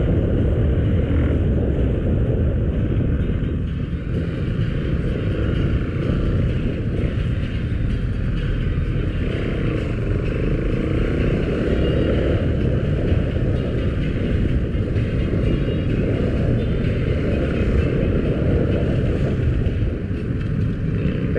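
Steady engine and road rumble of a motorcycle weaving through congested traffic on EDSA toward Cubao, Mandaluyong, heard close and continuous with wind buffeting the microphone and no clear gaps.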